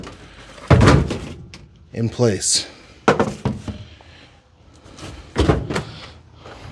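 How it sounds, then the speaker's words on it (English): A shoebox-style hot rod car's door is shut several times, giving heavy, close thuds spaced a few seconds apart, with someone talking in between. "I'll climb inside with the door shut"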